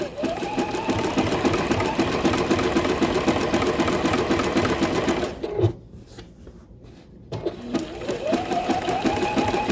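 A sewing machine runs steadily doing zigzag stitching for a quilt applique, a rapid continuous mechanical whir with a short pause midway before the stitching resumes, loud and close.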